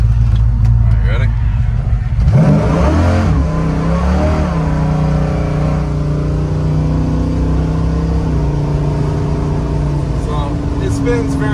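Hard acceleration from a 1977 Chevrolet C10 pickup with a 555 cubic inch big block V8 and TCI transmission, a loud engine roar building and sustained over about nine seconds, with speech over it.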